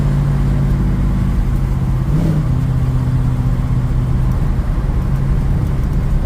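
Restored 1972 Ford Mustang Mach 1 on a winter drive, its engine heard from inside as a loud continuous rumble with a brief rev swell partway through, steady and close with no voices.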